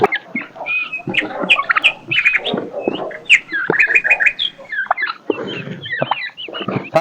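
Chickens cluck and squawk continuously while being fed, a busy flock close by with overlapping calls and sharp cackles throughout.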